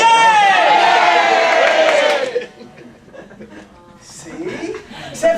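A class of children cheers loudly in a burst of shouting voices for about two seconds, then falls quiet to scattered murmurs and a few small laughs.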